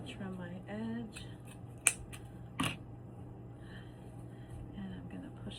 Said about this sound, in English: I'm going to trim my edge.